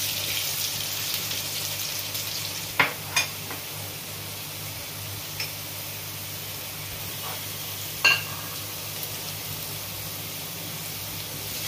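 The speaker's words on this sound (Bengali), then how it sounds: "আলুগুলো একটু লাল করে ভেজে নেব।" Potatoes fry in hot oil with a steady, soft sizzle, broken by a few brief clacks of a utensil against the pan.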